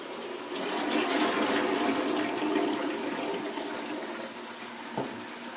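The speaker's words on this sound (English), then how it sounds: "you can actually start to see the water level raise up. And you can hear it pick up at a flush" Steady rushing water refills a toilet tank after a flush, a continuous hiss that swells then slowly eases, with a faint knock near the end.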